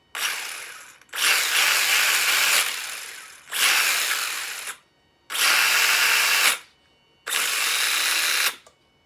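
Mojave Grom BLX RC car drivetrain revving in short bursts, five high whirring runs of a second or two each with pauses between, close and loud, mechanical grinding whine from the differential, no talking.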